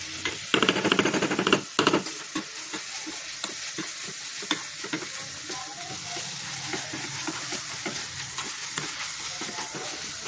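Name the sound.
stirring sugar mixture cooking in a pan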